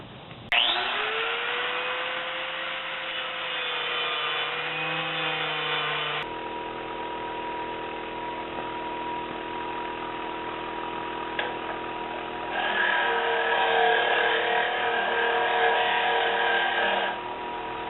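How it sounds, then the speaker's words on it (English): An angle grinder fitted with a stainless steel wire wheel runs continuously for the whole stretch, a steady high whirring rasp that shifts in tone as pressure on the workpiece changes, with a brief drop partway through. "Still grinding."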